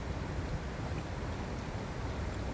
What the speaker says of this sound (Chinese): 这个熊老大露营区的溪水声